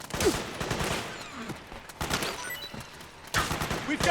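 Dense, sustained bursts of automatic gunfire from a Metal Gear Solid 4 battle, with a brief lull near the middle before the rapid firing surges back loud and close.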